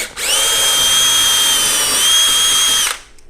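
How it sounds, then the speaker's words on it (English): A power drill whines steadily and loudly for about three seconds, pre-drilling holes in a wall for the lag bolts of a TV mount, then spins down and stops abruptly. "next thing we're going to do is we're going to pre-drill"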